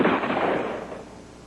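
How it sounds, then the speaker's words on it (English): A single gunshot fired during a police officer's struggle with a man outside, heard as a sharp loud burst with a decaying tail over about a second and a half, with no talk. "I just heard gunfire in the area. He just shot him."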